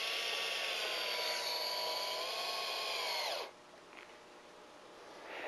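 A power drill drives supplied screws through the head flashing of a VELUX skylight on a metal roof, a steady high whine lasting about three and a half seconds that then stops, leaving quiet with faint handling noises.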